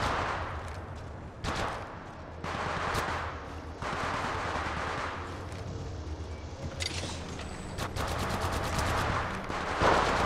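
Rapid automatic gunfire bursts from an Apex Legends Mobile firefight, several volleys of machine-gun-like shots crackling in quick succession with occasional heavier booms, loud and continuous through the stretch.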